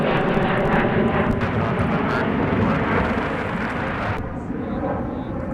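An airliner passes directly overhead at MSP airport, a loud, sustained roaring engine rumble that stays heavy throughout and eases slightly near the end.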